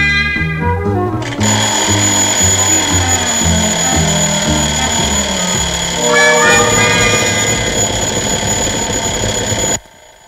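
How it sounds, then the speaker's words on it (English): An old 1962 alarm clock rings loud and close, a sustained harsh metallic clangor that runs unbroken for about nine seconds, shifting in texture partway through before cutting off abruptly. "the professor set that old alarm of his for 9:30. And there it goes now."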